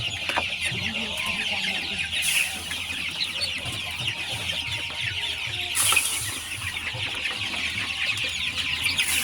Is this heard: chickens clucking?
yes